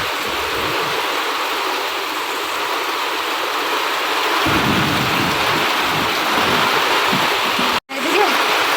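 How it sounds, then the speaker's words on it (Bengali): Heavy rain pours steadily on a flooded street, a dense continuous roar close by with no voices, broken by a brief dropout near the end. "ভালো জোর কিন্তু বৃষ্টি হচ্ছে"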